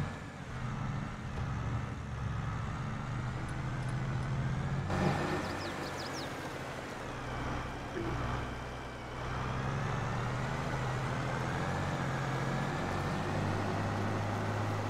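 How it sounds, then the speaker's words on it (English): Loaded Kenworth grain trucks hauling corn rumble steadily nearby on a farm, a continuous low engine drone with a brief air-brake hiss partway through and no talking. "Here's both the trucks, both Kenworths are loaded with corn"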